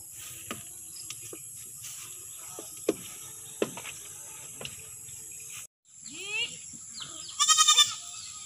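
On a goat farm, a goat gives a short bleat near the end of a quiet stretch of faint insect chirring and a few soft knocks, with little else happening nearby.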